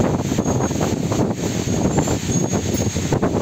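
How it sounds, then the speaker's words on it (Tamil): Strong cyclone wind roars continuously during heavy rain in Chennai's Anna Nagar area, buffeting the microphone with loud, gusty rushing noise and no voices. "பலத்த சூறாவளி காற்று"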